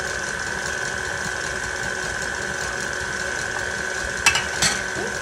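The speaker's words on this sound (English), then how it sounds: "I'll put the mixer down low, because if I didn't, it would slosh egg all over me" Electric hand mixer running on a low setting, blending eggs into cream cheese, with a steady mechanical whir throughout and two brief clattering bumps near the end.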